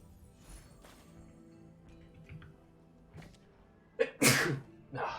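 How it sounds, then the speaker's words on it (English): A single loud, sharp human sneeze bursts out close to the microphone after a few seconds of quiet game sounds and faint clicks, followed by a brief rustle. "I'm gonna sneeze"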